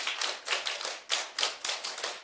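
A group claps together in a classroom-like setting, with bright, fairly close rhythmic bursts that pulse in short surges for about two seconds.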